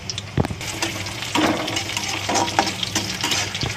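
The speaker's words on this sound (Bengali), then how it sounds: "একটু পেঁয়াজ দিয়ে দিলাম।" Sliced onion frying in hot oil in a karahi-style wok, a steady close sizzle with a few stirring scrapes and small bursts running through the whole stretch, no talking.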